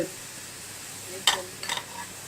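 Onions brown in a pan for junglee pulao. The frying is a faint, soft sizzle, broken by two brief metallic stirring scrapes.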